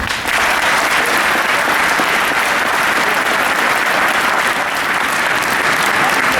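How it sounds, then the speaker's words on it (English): A graduation audience applauds the Satellite NCOA on-camera instructors, Technical Sergeants Joshua Hatcher and Jonathan Kelly, with sustained, loud, dense clapping from many hands that holds steady and close throughout. "Please give a round of applause to the Satellite NCOA on-camera instructors"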